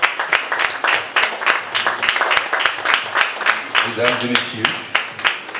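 Applause at a festival opening ceremony, steady rhythmic clapping from a crowd that runs throughout, with a voice addressing the audience over it near the end.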